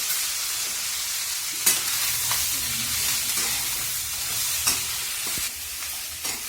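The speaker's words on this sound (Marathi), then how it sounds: "आता आपला कांदा असं लाल त्याचा परतून द्यायचा आहे" Chopped onion fries in a little oil in a kadai, giving a steady close sizzle with a few sharp scrapes from stirring.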